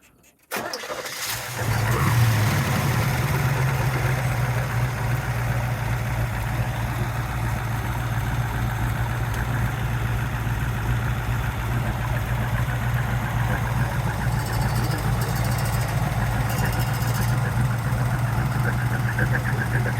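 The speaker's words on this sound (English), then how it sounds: "And that chambered exhaust sounds so good." A 1969 Camaro Z28's original DZ302 V8 starts up and settles into a steady, deep rumbling idle, loud and close, with a throaty chambered-exhaust tone that holds throughout.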